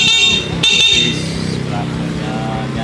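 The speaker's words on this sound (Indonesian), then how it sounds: "Coba klakson kayaknya ini" A restored Yamaha F1ZR motorcycle sounds a short, bright electric horn blast that cuts off. A voice talks afterwards over a steady mechanical hum in a workshop.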